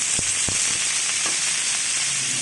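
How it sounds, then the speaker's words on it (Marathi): Onion sizzles steadily in hot oil on a flat griddle pan over a gas stove, a constant frying hiss with a few soft stirring clicks near the start. "गॅसवर मी तवा ठेवलेला आहे, त्याच्यामध्ये आपण कांदा भाजून घेणार आहोत"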